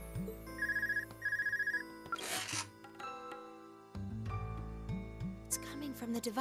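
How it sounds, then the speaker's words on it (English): A synthetic phone ringtone chirps in two short bursts at the start in the game Trails of Cold Steel, followed by game sound effects, a whoosh, and soft background music. "Your phone's ringing."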